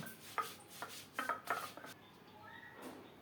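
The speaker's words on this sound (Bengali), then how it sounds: "নিয়েছি সাত আটটা শুকনো মরিচ অল্প একটু আদা চার পাঁচ কোষ রসুন একটু জিরা আর ধনিয়া পাটায় মিহি করে বেটে নেব" Dried chillies, ginger, garlic, cumin and coriander being ground on a stone slab, with a handful of quiet rubbing and scraping strokes, close but faint, followed by a softer pause, no talking.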